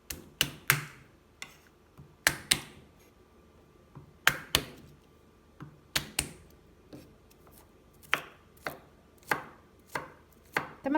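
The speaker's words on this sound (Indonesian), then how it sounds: "Bawang putihnya digeprek lalu dicincang sampai halus." A sharp knife chops crushed garlic finely on a cutting board, with crisp, close knocks arriving in irregular bursts and clusters, loud against a quiet kitchen and no talking.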